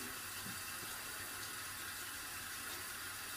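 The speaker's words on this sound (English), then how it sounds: "You want to wet your hands" Water runs steadily from a tap into a sink while hands are wet for handwashing, a soft, continuous hiss with no pauses and no talk.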